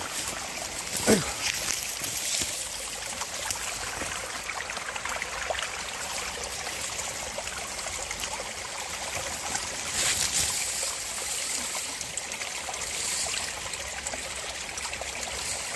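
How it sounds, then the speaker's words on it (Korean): Steady rushing and trickling of a clean mountain-valley stream flowing over rocks below a waterfall, continuous and close, with no pauses throughout. "물소리 들리시죠?"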